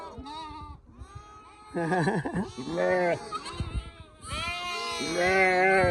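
Sheep and goats, mothers and their young, bleat repeatedly at close range, several animals calling one after another, loud wavering cries.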